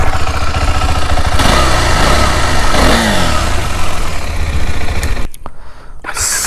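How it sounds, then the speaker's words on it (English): A KTM 390 Adventure Rally single-cylinder motorcycle engine runs close by, a loud, throbbing thump that climbs and falls with repeated revs, drops out abruptly for about a second, then comes back. "So let's just start her up to give you a glimpse of how the engine sounds."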